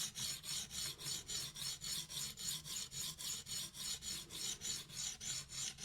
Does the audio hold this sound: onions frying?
no